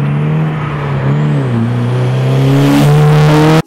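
A car's turbocharger spools up, its loud, steady engine drone carrying a rising and shifting tonal whine that builds before cutting off abruptly.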